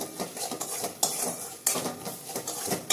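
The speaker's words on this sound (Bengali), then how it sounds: "এবারে এটাকে আমি ভালোভাবে কষিয়ে নেব এই মশলাটাকে" Spice masala fries in a pan while a spoon stirs it, giving a soft sizzle under several distinct scraping clanks of metal on the pan, near and without talk.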